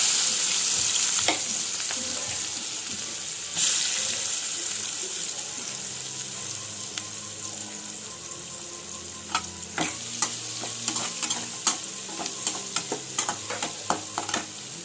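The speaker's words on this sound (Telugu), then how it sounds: "ఇప్పుడు ఇందులో ఆనియన్స్ ముక్కలు వేసేస్తాను" Onion pieces fry in leftover fish-fry oil that was strained and reused, giving a steady close sizzle. Sharp spoon scrapes and taps from stirring grow more frequent toward the end.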